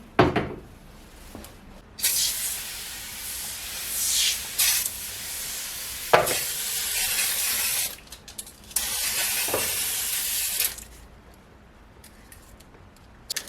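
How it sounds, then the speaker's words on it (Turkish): Oven cleaner sprayed inside a dirty oven in a series of loud, close hissing bursts of varying length, separated by short pauses and faint handling knocks. "Şöyle her yerini kaplayacak şekilde sıkıyorum."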